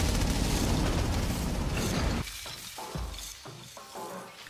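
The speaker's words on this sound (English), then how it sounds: "I can shoot missiles from my hands?" Missiles fired from the hands in the video game Infamous Second Son: a loud, sustained explosive rush of blasts and debris, then several sharper bursts and impacts in quick succession.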